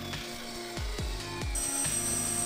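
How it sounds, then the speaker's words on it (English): A small benchtop spindle sander runs steadily while shaping a wooden stock for a homemade prop pulse rifle, with a few short rubbing pushes of wood against the drum. "Now using a spindle sander"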